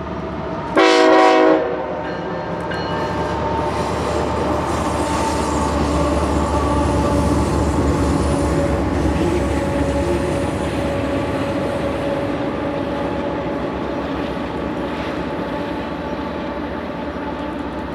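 A BNSF freight train's horn blasts briefly near the start, followed by the long, steady rumble and clatter of rail cars rolling past close by, on the Northern Transcon at Marias Pass.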